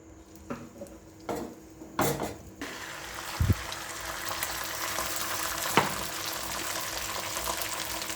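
Egg toast fries in a pan with a soft, steady sizzle that builds after a few clanks and knocks of pans and utensils, close and moderately quiet with no talking.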